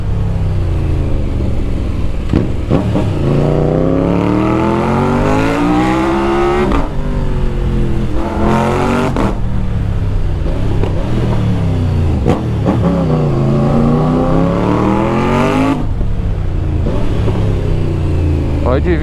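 Triumph Tiger 900 Rally Pro 2025 adventure motorcycle engine roaring through repeated gear changes, loud and close, with rising revs that drop at each shift before climbing again.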